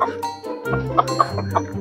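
Chickens cluck and squawk up close in short, irregular bursts, several calls in quick succession.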